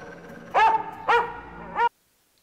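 Dog barking in the 1993 horror movie Ticks, three sharp barks spaced roughly half a second apart, close and loud over faint background sound, then sudden silence.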